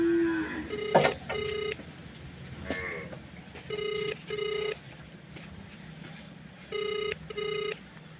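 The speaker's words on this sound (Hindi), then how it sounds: "चलो बेल जा रही है।" Outgoing phone call ringback tone heard in repeated paired pulses, clear and close, with a brief rustle and tap near the start and quiet room background between rings.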